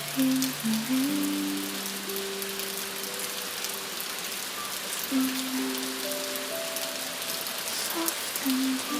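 Rain falls steadily on a calm Tokyo night as an even, close wash of patter. Soft sustained musical tones drift beneath it.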